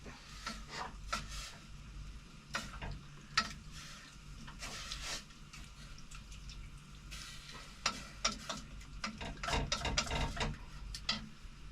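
Kangaroo meat cooking in a pot with a little added water, making a steady close sizzle and bubbling hiss broken by frequent clicks and scrapes of stirring.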